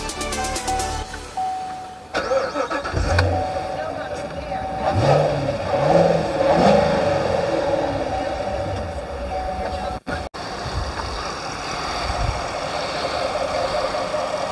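A powerful Corvette Stingray engine rumbles and revs up and down repeatedly, loud and close, with a deep throaty roar swelling and falling.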